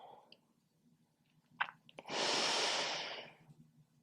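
A deep breath during a yoga stretch: a soft intake and small clicks, then a long, loud, breathy exhale lasting over a second, close to the microphone.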